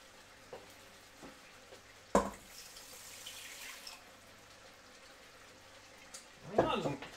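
Tap water splashing into a jug in a home kitchen, with a brief rushing burst and then a second run of water, while people talk nearby.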